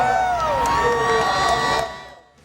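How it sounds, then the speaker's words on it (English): A race crowd at a 1990s stock car event cheers and whoops loudly, a dense roar of voices with high shouts that fades out near the end. "The crowd is cheering and waving in happiness"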